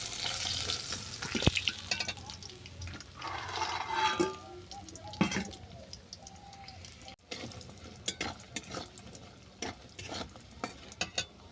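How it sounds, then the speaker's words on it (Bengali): Lentil dumplings (bori) fry in oil in a pan, a faint uneven sizzle broken by scraping stirs and soft clicks of a spoon, close by and with no talk. "এই তেলের মধ্যে বড়িগুলোকে বাদামি করে ভেজে নেব।"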